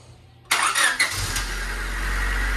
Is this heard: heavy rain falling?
no